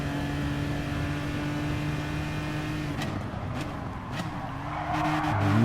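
An Aston Martin DBR9 race car in Gran Turismo Sport accelerates, its engine droning steadily and loud before the tone shifts and climbs again near the end, with brief tyre noise mid-way.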